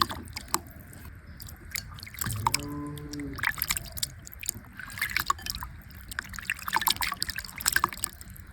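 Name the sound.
washing small fish in water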